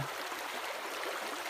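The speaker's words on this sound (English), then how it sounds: "The stream is incredibly clear." Clear mountain stream in Corcovado, Argentina, flowing with a steady, even broadband rush of water, moderately quiet and continuous, with no voices.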